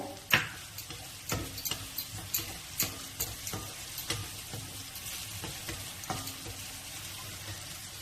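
Corn kernels sizzle and crackle in a hot, salted pan while being stirred for corn fried rice, with sharp pops and scraping knocks scattered over a steady close frying hiss.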